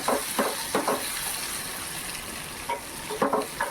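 Tomatoes go into browned onions in a hot pan while cooking a prawn dish, giving a continuous close sizzle. Intermittent scraping stir strokes sound in short bursts over it, with no talk.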